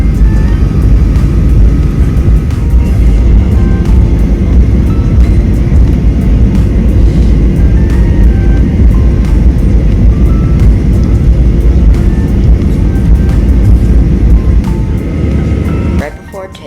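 A loud, steady engine drone from a Southwest Airlines plane taxiing at Austin airport rumbles throughout, then drops off abruptly near the end.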